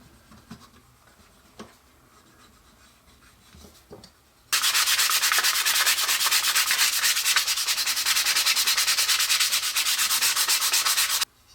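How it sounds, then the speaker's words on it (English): After a few quiet knocks, steady rhythmic sanding of wood with sandpaper rasps loudly and continuously for about seven seconds, then stops. "it doesn't take much sanding at all to get rid of the last little bit"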